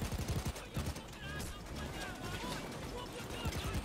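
Rapid gunfire from a Payday 2 bank-vault heist, dense bursts of shots crackling close and loud in a steady barrage, with voices talking over the shooting.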